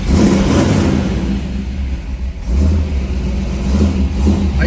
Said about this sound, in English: I forgot to start the car.